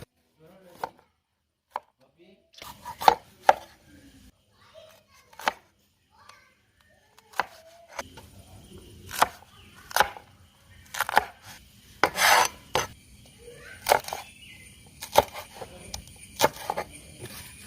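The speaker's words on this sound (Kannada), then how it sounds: "ಈರುಳ್ಳಿನ ಈ ರೀತಿ ಕಟ್ ಮಾಡಿ ನೀವು." Sharp knife strokes chop onion on a board, irregular taps in bursts, close by, with brief soft voice sounds between cuts.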